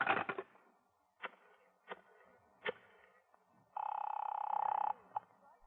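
A wall-mounted telephone in an old radio drama sounds a few sharp clicks and rattles, then a buzzing ring tone lasting over a second, faint and distant with no talk.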